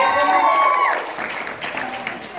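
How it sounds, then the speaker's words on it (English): Audience applause for the judges at a cosplay contest at RinkuCon 2017, a broad wash of clapping and some cheering that swells and then eases, heard under a presenter's voice. "Huge round of applause for them."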